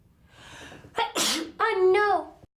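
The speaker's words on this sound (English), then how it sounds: "Well, I'm gonna sneeze." A person sneezes once, loudly and close, after a sharp intake of breath, followed by a brief voiced exclamation.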